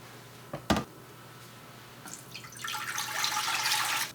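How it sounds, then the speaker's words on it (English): Water poured into a cooking pot for wild cranberry jam. A couple of sharp knocks come first, then a steady, rising gush of running liquid builds and holds near the end, with no voices. "I'm gonna start by throwing 3 cups of water and 4 cups of honey in this pot"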